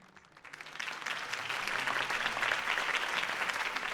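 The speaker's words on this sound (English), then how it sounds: "could have heard that applause" In the video game Batman: The Telltale Series, applause swells up from quiet into a steady, dense round of clapping from a sizeable crowd, continuing evenly to the end.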